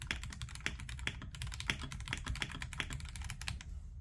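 Rapid, steady typing on a Royal Kludge mechanical keyboard, with dense close-up key clicks running throughout and no talking.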